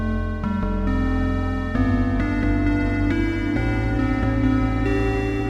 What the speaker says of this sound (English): with through zero FM, you can get these metallic sounds